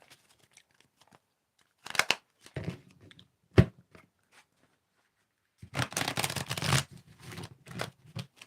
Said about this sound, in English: please tell me when to stop shuffling.